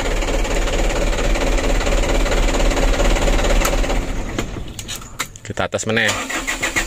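A motorbike engine with jelly-like oil sludge, hard to start, catches after a kick start and revs steadily and loud, then sputters and cuts unevenly near the end, with someone speaking briefly over it.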